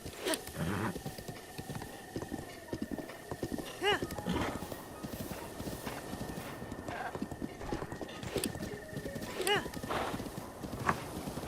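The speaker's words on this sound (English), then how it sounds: "This horse is actually a good horse." A horse gallops with steady clip-clop hoofbeats and lets out a couple of whinnies in Breath of the Wild, the hooves drumming continuously over game music and ambience.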